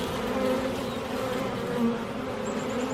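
Honeybees buzzing around a new beehive, a dense, continuous drone of many wings close by with individual bees passing through, no talking.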